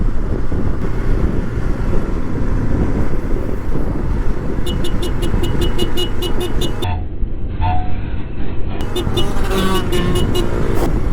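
A motorcycle rides along a road with a loud, continuous rumble mixed with wind roar. A series of short, rapid horn toots sounds near the middle and again toward the end.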